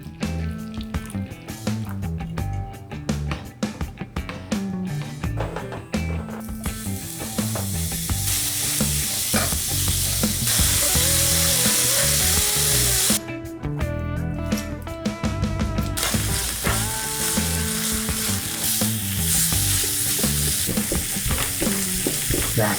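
Pork belly renders its fat for ship's biscuit in a hot pan, frying with a steady sizzle and occasional stirring scrapes, the crackle swelling louder and denser partway through, with no voices.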